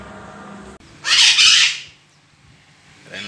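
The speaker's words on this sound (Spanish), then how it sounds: "Miren qué lindas están las aves." Backyard birds at a feeding and watering spot give a loud, harsh squawking burst lasting under a second, close by, then fade back into quieter background calls.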